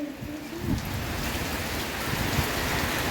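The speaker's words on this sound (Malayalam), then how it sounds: "മഴത്തിൽ തന്നെ ഇറങ്ങില്ല. മഴ നോക്കുക" Heavy rain pours steadily, a dense hiss of drops drumming on surfaces close by, constant and loud throughout.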